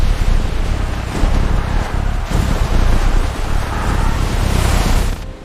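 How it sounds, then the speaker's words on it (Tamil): Rough, stormy sea surf with waves crashing continuously and wind noise buffeting the microphone, loud and close throughout before it cuts off abruptly near the end. "கடல் கொந்தளித்தது."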